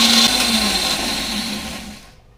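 An electric mixer grinder whirs as it blends a coconut cream, milk and water ice cream mixture, a loud high motor whine that gradually spins down and fades to silence within about two seconds, with no talking.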